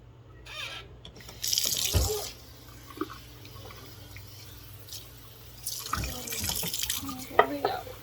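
Water from a tap runs intermittently over fodder seeds being rinsed, with a big spoon stirring and clinking through them; splashy bursts come and go between quieter moments.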